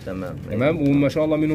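Pigeons coo in a loft housing white, silver and red meat pigeons, low warbling calls close by. Someone talks over them throughout.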